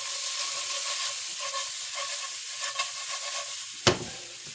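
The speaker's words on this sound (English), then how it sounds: "Give your pan a shake." Shrimp sizzle in a frying pan with a steady, close hiss, and a single sharp knock near the end as the pan is shaken.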